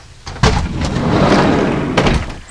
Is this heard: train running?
no